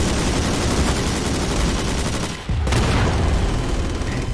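Continuous automatic gunfire from heavy machine guns in the Garry's Mod sandbox game, a dense, loud rattle of rapid shots that briefly drops out midway, then resumes at full intensity.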